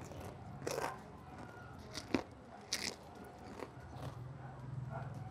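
Crispy jumbo pork chicharon being bitten, giving a few sharp, close crunches spread over several seconds against a quiet background.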